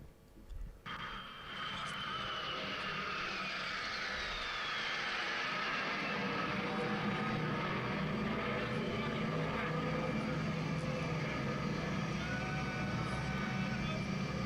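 A military jet roars in on the deck of an aircraft carrier, a loud, steady, rising engine rush that builds and holds, with a voice talking over it at the start.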